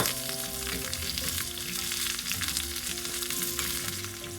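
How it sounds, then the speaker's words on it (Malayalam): Chopped shallots and green chilies sautéing in oil, a continuous close sizzle with faint stirring under a low background hum. "ഇച്ചിരി ചെറിയ ഉള്ളിയും കൂടെ അരിഞ്ഞിട്ട് മൂപ്പിക്കണം"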